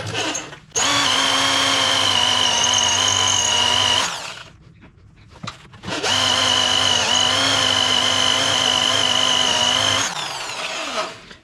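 Electric drill boring a hole while building a homemade electric can crusher, loud and close in two long steady whining bursts separated by a brief pause, with no talk.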